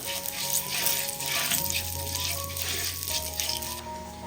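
Turmeric and asafoetida stirred in a hot pan over a low flame make a continuous, fairly loud sizzle, with faint scraping of the stirring under it and no voices.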